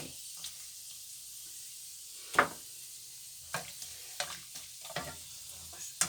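Soft sizzling of pork rinds frying in a pan, broken by several sharp scrapes and clatters of stirring.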